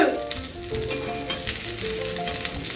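French toast frying in a pan, a steady close sizzle with fine crackling that holds evenly throughout, no voices over it.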